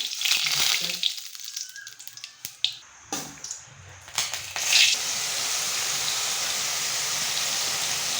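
Mustard seeds, cumin and bay leaf hit well-heated oil for home-style pav bhaji, giving scattered pops and crackles that build into a steady close sizzle after a loud burst midway.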